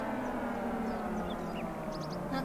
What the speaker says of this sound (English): Woke up this morning to a tornado siren.